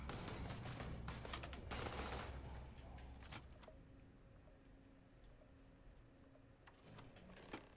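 Gunfire in the Starfield game: a rapid clatter of shots in the first few seconds, then fading to sparse, faint clicks and ticks over a quiet background with a few scattered pops near the end.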